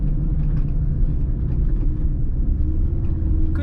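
A car drives along a dusty, windswept desert road in Death Valley, a steady low engine and road rumble heard from inside the vehicle, continuous and fairly loud with no talk.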